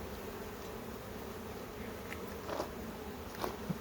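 Honey bees buzz around a hive frame full of pollen and honey: a continuous soft drone with occasional louder passes of individual bees close by, all fairly faint and without talk.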